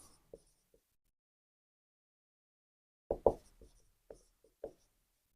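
Pen or marker writing on a board during a biology lecture, a few sparse scratchy strokes, then a cluster of sharper taps and scrapes, close and otherwise quiet.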